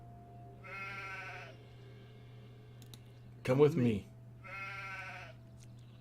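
Two clear sheep bleats from a sheep companion in the Gothic 2 Night of the Raven role-playing game, wavering and fairly loud, one near the start and one near the end, with a short spoken line between them.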